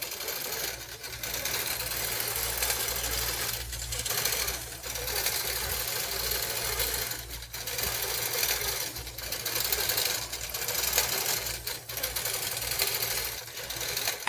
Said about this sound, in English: As this sews, one of the things I love to talk about is really how the machine does it all for you.